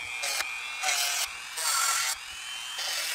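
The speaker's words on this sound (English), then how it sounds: "I usually use my Dremel tool with a sanding end on it" Dremel rotary tool fitted with a sanding end, run at low speed to strip red coating from a Cerwin Vega D-9 crossover part: a steady high whine that rises and falls in loudness across several short passes, close and without talk.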